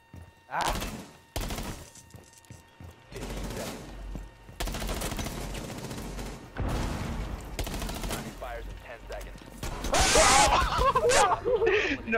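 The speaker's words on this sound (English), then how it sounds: "You hit me with that wall bang" Gunfire in Rainbow Six Siege, fired through a wall, arrives as a series of sharp, loud bursts separated by short gaps, with a denser rattling stretch toward the end and a voice talking over it.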